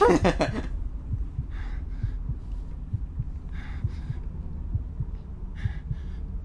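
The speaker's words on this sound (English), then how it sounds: "the heartbeat's on, which means there's an enemy in the vicinity, close by" A heartbeat pulse in the video game The Evil Within, warning of a nearby enemy: low, steady thumping beats at a regular rhythm after a brief louder burst at the start, with faint breathy hisses recurring over it.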